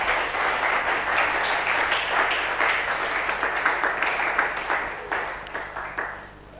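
A church congregation applauds during a French-language Sunday service, right after a prayer. The clapping is steady and dense for several seconds, then thins out and fades near the end.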